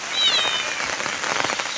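Heavy rain pours steadily during an outdoor fishing outing, a dense, loud hiss of drops striking surfaces with no pauses.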